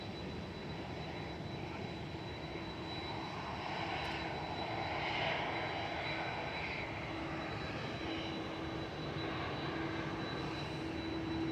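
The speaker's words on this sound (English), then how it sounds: "Flight 4, heading back to Bahrain, A9C-FF, 787-9 Dreamliner." A Gulf Air Boeing 787-9 Dreamliner departing Manchester Airport on a flight to Bahrain gives a steady, distant jet engine roar that swells gently and holds for about eleven seconds, with no talking.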